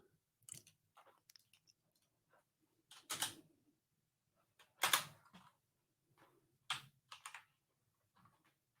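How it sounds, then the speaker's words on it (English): Fast typing on a computer keyboard, with bursts of clustered keystrokes separated by short pauses. The clicks are close and fairly quiet, and no one speaks. "I'm typing as fast as I can."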